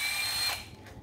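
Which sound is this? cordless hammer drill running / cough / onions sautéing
cordless hammer drill running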